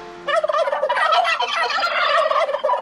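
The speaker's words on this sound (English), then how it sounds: "Get the turkeys out of the studio." Turkeys gobble loudly and close, several birds overlapping in a continuous rattling, warbling chorus with no talk over it.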